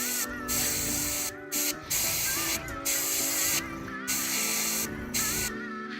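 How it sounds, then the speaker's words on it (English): An airbrush spraying paint gives off a steady hiss in repeated bursts, each lasting about a second and separated by short gaps, while soft background music plays underneath. "I'm angling my airbrush so that I can paint this without spraying everywhere."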